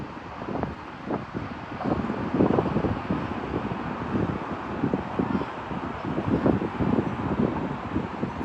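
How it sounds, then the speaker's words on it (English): Strong southeasterly wind gusting over 50 knots during a UK storm, roaring as a steady broadband rush with repeated surging gusts and buffeting against the microphone, loud and continuous with no voices. "strong southeasterly winds with gusts over 50 knots or 58 miles per hour"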